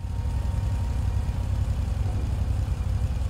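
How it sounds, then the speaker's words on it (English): The Western Reever motorcycle in GTA Online idles with a steady, low, meaty rumble and a constant pulsing throb that stays even throughout, with no voices. "The exhaust note's definitely unique."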